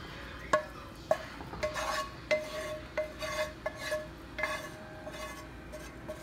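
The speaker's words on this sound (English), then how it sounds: "So I'm gonna mix up the, meatballs and the sauce together." A spoon scrapes and knocks against a pot while meatballs, tomato sauce and spaghetti noodles are mixed together: soft, fairly quiet clacks every half second or so over a wet shuffling, with no voices.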